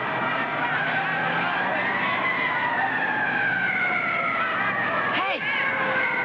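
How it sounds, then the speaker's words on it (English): A fire engine siren wails continuously at moderate distance, its pitch slowly sweeping, passing through a neighborhood, with a brief swoop near the end. "Hey, that's the fire engine."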